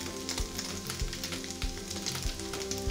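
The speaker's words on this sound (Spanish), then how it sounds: "Mi tocino se sigue friendo" Bacon sizzles steadily in a pan, a continuous close crackle of frying fat with faint stirring scrapes and no talking.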